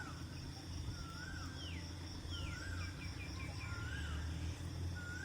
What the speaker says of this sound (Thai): มีเสียงนกร้องเสียงธรรมชาติ